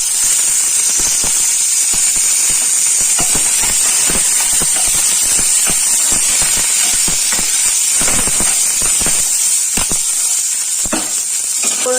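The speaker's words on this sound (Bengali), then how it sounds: "ফোড়নটা একটু ভাজা হোক" Curry leaves fry in hot oil while tempering for sambar, giving a loud, constant hiss with scattered sharp crackles and pops that runs unbroken throughout.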